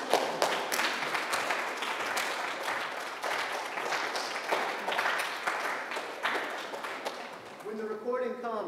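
An audience at a poetry reading applauds steadily, a bright wash of many hands clapping that carries on at moderate level before fading, with a voice speaking near the end.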